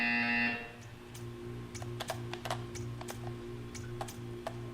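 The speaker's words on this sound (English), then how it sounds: "You will hear a buzzer. When you hear the buzzer, stare at the art." A short, loud harmonic buzzer sounds at the very start in Portal 2. It is followed by a steady rhythmic low pulsing hum and scattered sharp clicks, with no talking.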